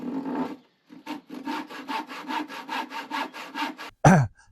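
A hand saw cuts wood for a shed with a steady run of about a dozen rasping back-and-forth strokes, close and clear, followed by a brief sharp noise at the end.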